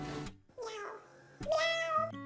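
A cat meows twice, clear and close, with short rising-falling cries separated by a brief pause.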